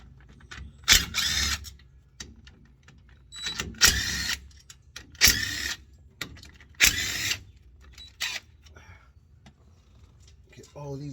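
Power tool or ratchet whirring off 13mm bolts, ten of them, on the 10 bolt rear end of a race truck, in repeated short loud bursts separated by quieter gaps with some background sound.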